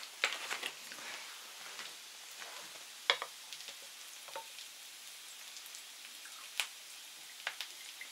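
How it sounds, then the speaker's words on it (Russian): Pork heart frying in a pan, giving a steady crackling sizzle with scattered sharp pops of spitting fat, close and moderately loud with no talk. "Короче, пока все жарится, да?"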